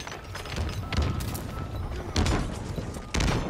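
Grenade blasts in a Halo Infinite multiplayer match on Xbox Series X, a few heavy booming thumps at irregular intervals, with the last one sharp and loud, amid busy game noise.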